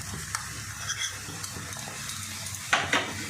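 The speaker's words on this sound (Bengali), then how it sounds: "এবার আমি যে ধনে গুঁড়ো আর জিরে গুঁড়ো নিয়েছিলাম, এটা কিন্তু সামান্য, দুটো মিলে হাফ চামচের একটু বেশি আমি দিয়ে দেব।" Coriander and cumin powder stirred into onion and garlic frying in a pan for a water spinach, potato and chickpea dish: a steady low sizzle with soft scraping strokes, then two sharper utensil clatters near the end.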